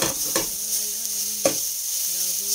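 Grated carrot for carrot halwa sizzles in ghee with caramelizing sugar, a soft continuous frying hiss broken by a couple of sharp stirring scrapes, with a faint musical tone underneath.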